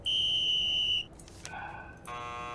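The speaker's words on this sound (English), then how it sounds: "Buzzer's the robot." A buzzer tone from the puzzle in the video game Nancy Drew: The Phantom of Venice, one loud steady electronic beep lasting about a second, followed by softer game chimes and tones.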